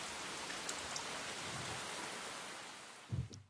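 Steady rain pours down in an anime episode, a dense even hiss holding throughout, with a brief low thump near the end.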